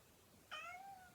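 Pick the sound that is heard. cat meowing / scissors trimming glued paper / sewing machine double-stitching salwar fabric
cat meowing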